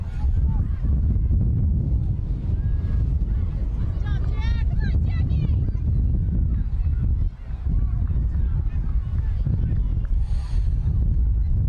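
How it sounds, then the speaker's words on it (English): Strong wind buffets the microphone at an outdoor under-8 girls' soccer finals match, a loud continuous low rumble that persists for the whole stretch with a brief dip near the middle, while a commentator talks over it. "the wind that was blowing hard is actually picking up here late in the first half"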